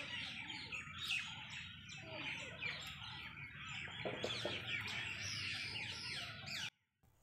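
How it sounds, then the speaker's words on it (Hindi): A dense chorus of many birds chirping and calling at dusk, continuous, fairly loud and busy throughout, ending abruptly. "तो आप देख रहे होगे इतना सारा चिड़ियाँ शोर मचा रही हैं।"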